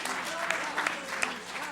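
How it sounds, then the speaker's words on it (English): An orchestra and audience clap together at a concert hall, a steady dense patter of applause with a few sharper claps standing out, fairly close, with voices mixed in underneath. "The orchestra and the audience clapped."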